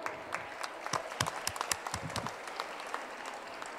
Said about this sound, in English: So a loud round of applause for all of you.